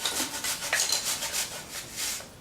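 An apple being grated into a bowl, a run of quick close scraping rasps against the grater in steady rhythm.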